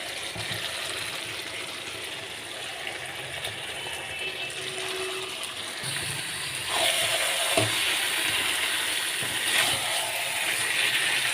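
Chicken pieces frying in a pan with tomato and onion, a steady hissing sizzle with occasional stirring clatter throughout, close and continuous.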